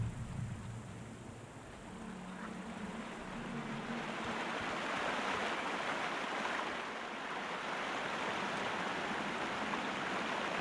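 Loud rushing water near a bridge pillar in the video game Sherlock Holmes Crimes and Punishments, a steady broadband roar like surf or a stream that swells slightly and holds throughout with no talking.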